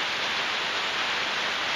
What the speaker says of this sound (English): enjoying the rain under this tin roof